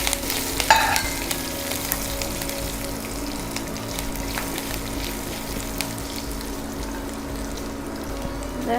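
Curry leaves and chopped green chili frying in hot oil in a pan for amla rice, a steady loud sizzle with stirring scrapes, close and continuous, no talking.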